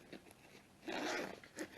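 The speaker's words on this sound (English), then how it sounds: "Zips closed." A zipper on a durable nylon drone carry bag pulled closed in a few quick close strokes, with one longer rasping pull in the middle, faint and alone.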